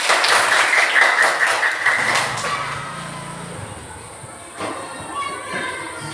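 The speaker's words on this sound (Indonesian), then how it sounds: "Tepuk tangan untuk kita semua." A classroom of children claps their hands together in a dense, lively burst that fades after about two seconds, with voices chattering around it.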